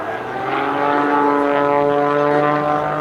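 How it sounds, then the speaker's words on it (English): A Pitts S2B aerobatic biplane performing at a naval air station airshow, its propeller engine droning loud and steady, rising slightly in intensity as it holds a sustained, buzzing tone. "he pushes the stick forward, causing the aircraft to swap ends"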